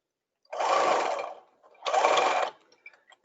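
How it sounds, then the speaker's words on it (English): Sewing machine stitching the center back seam of a tutu mock-up, two quick bursts of rapid motor whirring separated by a short pause, close and clear with no talk. "So I'm just sewing halfway up my butt, my center back seam."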